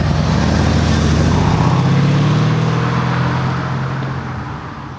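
Engine of a 2014 Mercedes-Benz E63 AMG S-Model 4MATIC wagon accelerating hard, a loud, deep, continuous roar with rising pitch through the first seconds before easing and fading slightly at the end, with no talk.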